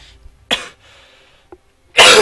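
Two sharp coughs a little over a second apart, the second louder and more forceful, with a quiet pause and a faint throat sound between them.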